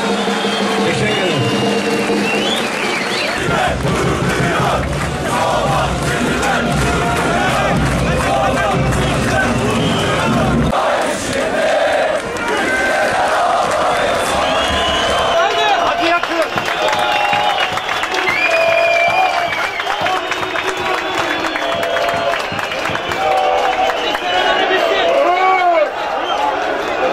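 A football crowd at a Somaspor versus Yıldırım Belediyespor match applauds and cheers in a loud, sustained swell, with someone talking over the noise through the first half.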